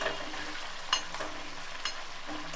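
Peanuts, dry red chillies and cumin frying in hot oil give a steady close sizzle, broken by a couple of sharp pops or spoon scrapes.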